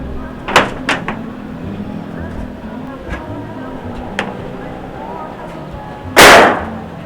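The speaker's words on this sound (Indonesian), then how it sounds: "Jangan dibanting-banting Sol." Objects are slammed down during repair of a leaking zinc roof, with a few sharp knocks early on, lighter taps in the middle and one loud, harsh crash near the end over background noise.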